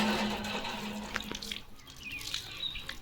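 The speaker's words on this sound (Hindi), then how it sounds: "यहाँ पे हैंडपम्प पे इमीडिएटली ताज़ा पानी आपको मिल जाता है" Water gushing from a village hand pump in rural Uttar Pradesh, a faint steady splash and flow with a few drips and distant outdoor background.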